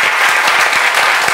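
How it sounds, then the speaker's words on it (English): A church congregation claps in praise during worship, a loud, continuous burst of many hands clapping up close, unbroken for the whole moment. "let's give the Lord a clap of praise"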